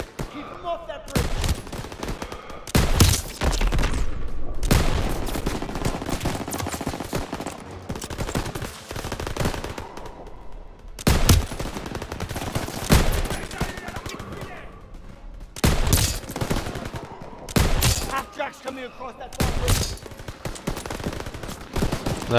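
Machine gun fire in the World War II shooter Call of Duty WW2, defending a bridge during the liberation of Paris: repeated loud automatic bursts in long stretches with short pauses, with shouted voices at times.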